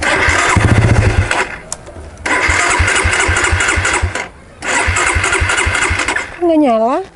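A Suzuki Satria FU motorcycle engine cranks and fails to catch, giving repeated bursts of near, loud mechanical chugging separated by short pauses, then a rising and falling whine at the end, with voices present.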